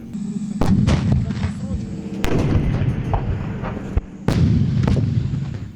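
Tank guns fire during a moving-fire training exercise in the Rivne region of Ukraine: several heavy, booming shots ring out one after another over a continuous low rumble of engines and tracks.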